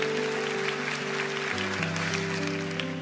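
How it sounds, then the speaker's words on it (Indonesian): Church congregation applause during a sermon: a broad, diffuse wash of clapping heard fairly faintly under sustained low tones of background music, continuous for the whole stretch. "berikan tepuk tangan untuk Tuhan"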